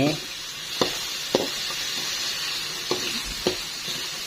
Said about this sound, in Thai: เราผัดเนื้อหมู